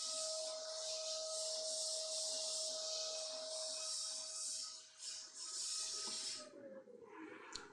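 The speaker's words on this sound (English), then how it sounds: "That was just a quick chamfer pass" A DATRON CNC milling machine making a quick chamfer pass, giving a steady high whine with a constant tone and rasping cutting noise that shifts and winds down near the end, with no talk.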